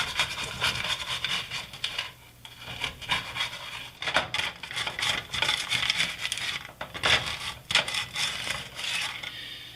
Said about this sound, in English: you just take a little spatula like this and try to go at it